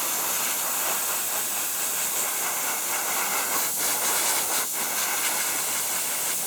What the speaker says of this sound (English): So I'm going to do it over here and spray it wet like I do with my gloss coat.